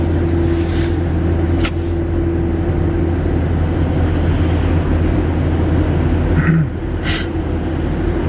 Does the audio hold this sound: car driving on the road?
yes